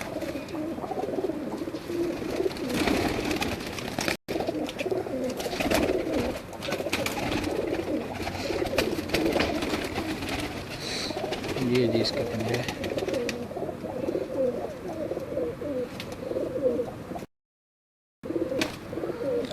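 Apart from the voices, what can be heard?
pigeons cooing on a rooftop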